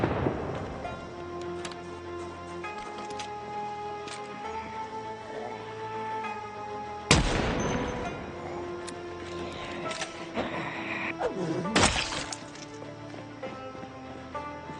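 Shotgun fired at zombies in Project Zomboid: two sharp, loud blasts several seconds apart over a quieter, steady game ambience with scattered small clicks.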